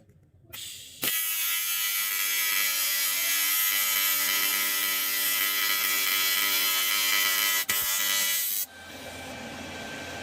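Steady AC TIG welding arc on a cast iron repair, a continuous loud buzzing hiss that starts abruptly, holds for about eight seconds with one brief dropout, then cuts off.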